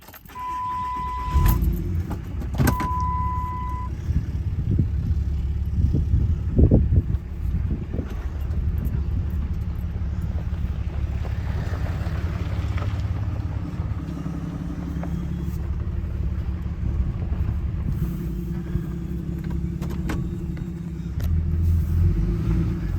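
A heavy logging truck called the Kraken, rolling out of the shop on wheels and tires for the first time in over 35 years, idles with a steady low rumble, a few clanks and beeps early on, nearby and sustained.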